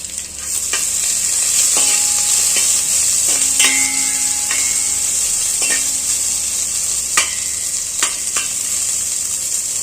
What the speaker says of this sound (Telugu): ఇవి మంచిగా వేగనిద్దాం ఇదిగోండి క్యాలిఫ్లవర్ మంచిగా ఇలా వేగాలి